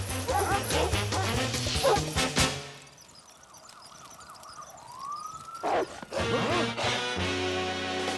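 Sled dog team barking in the Sam & Max cartoon game: a burst of yapping dogs over music, a siren-like rising whistle in a quieter middle stretch, then more barking and music.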